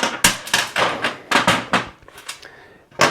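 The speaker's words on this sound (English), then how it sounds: "Next, we're gonna go ahead and break these head bolts loose." Head bolts on a Massimo MSU 700 engine top end are wrenched loose during a teardown, giving a series of sharp, loud metallic knocks and clunks in an uneven rhythm, close by with no talk.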